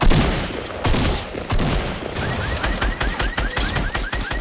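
Rapid, loud gunfire bursts in a shooter video game involving a shotgun, dense overlapping shots with a repeating chirping electronic tone layered on top partway through.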